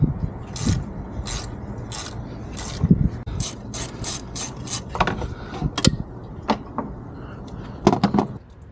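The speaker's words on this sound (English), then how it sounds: "we just removed the two 10mm bolts, one from the top, one from the bottom" A ratchet backs out 10mm bolts from a Jeep thermostat housing, loud close bursts of rapid clicking in short irregular runs with brief pauses, metallic tool knocks, and no talk.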